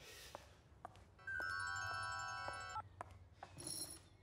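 A telephone rings in a dubbed Angolan TV drama, one sustained electronic ring burst of about a second and a half amid quiet room noise and brief clicks, followed by a shorter tonal burst.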